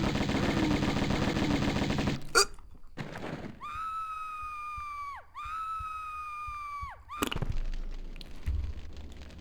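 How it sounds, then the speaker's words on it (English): Uzi fire in the video game Tomb Raider 1 Remastered: a rapid, loud burst of automatic shots for about two seconds, then quieter game tones with sweeping, descending pitches and a few further bursts. "it's going to be slow even with the Uzis by the look of it."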